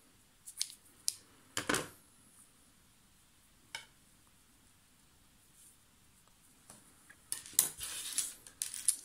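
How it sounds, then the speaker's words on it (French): Scissors snip through knitting yarn while finishing a baby cardigan, giving a few short, crisp metallic clicks spaced apart against a quiet room, with a busier cluster of small clatters near the end. "Je coupe mon fil."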